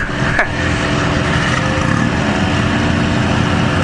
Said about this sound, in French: certains protos ont allumé leur moteur